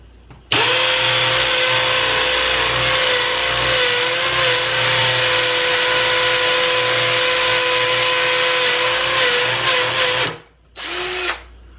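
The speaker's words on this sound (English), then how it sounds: "My impact driver. This one's got like a hammer effect to go." An impact driver with a hammer action runs loud and steady for about ten seconds, close by, then stops briefly and gives one more short burst, with no talking.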